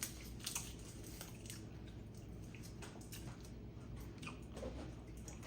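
Someone sips and swallows water flavored with Crystal Light. The close, wet gulping and squishing sounds are quiet and continuous over a noisy background hiss.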